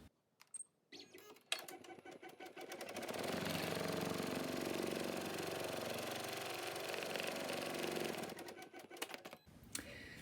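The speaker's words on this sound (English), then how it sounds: "now we are going to sew the placement stitch" An embroidery machine sews a placement stitch through tearaway stabilizer held in a hoop, starting with a few clicks before settling into a steady, fast mechanical whir for about six seconds, then stopping with more clicks.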